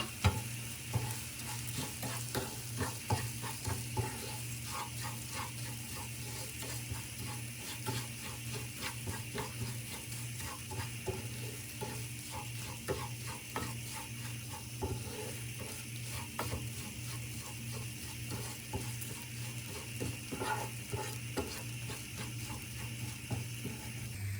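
Bulgur toasts in a pan while a spoon scrapes and rattles through the grains in a steady, gritty rhythm over a low continuous sizzle. The sound stays quiet and close for a long stretch, with no speech.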